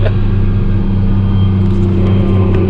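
A car engine drones loudly and steadily from inside the vehicle, a constant low rumble with the turbo on and no voices over it.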